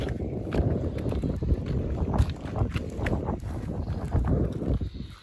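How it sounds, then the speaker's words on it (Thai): Wind blows steadily and fairly loud across an open rural path during a lizard hunt, a continuous broadband rush with buffeting gusts against the microphone and no talk. "ลมมันพัดแห้ง"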